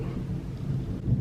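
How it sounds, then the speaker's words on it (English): Low distant thunder rumbling during a rainstorm, soft steady rain beneath, faint and muffled from indoors. "I don't know if you heard that thunder in the background"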